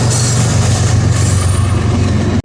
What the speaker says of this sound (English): Heading north with an empty crude train.